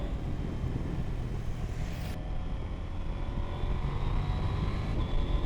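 A KTM 890 Adventure motorcycle engine pulls hard toward high revs, its steady drone buried under heavy wind rush from riding at speed, with no voices.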